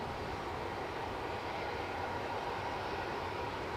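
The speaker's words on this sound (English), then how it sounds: "Inbound Lufty from Frankfurt. This is an A321 if memory serves" Lufthansa Airbus A321 inbound from Frankfurt near Edinburgh airport, a faint, steady broadband engine roar in the distance with no talk.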